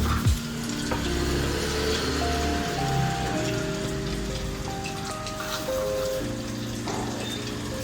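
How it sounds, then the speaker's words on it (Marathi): Cumin, mustard seeds, asafoetida and curry leaves sizzle and spit continuously in hot oil, a dense crackling hiss close by, with light background music playing throughout. "जिरं, मोहरी, हिंगपूड आणि कढीपत्ता आपण ह्याचीच फक्त फोडणी देतोय"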